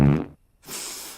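A short fart from an animated cat comedy, a quick low buzzing burst followed by a breathy hissing tail, heard alone and fairly close.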